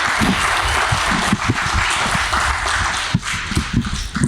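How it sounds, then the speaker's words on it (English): Audience applause at the close of a mini symposium for its speakers, a dense steady wash of many hands clapping close by with no voices over it. "Can we have a final round of applause for all our speakers?"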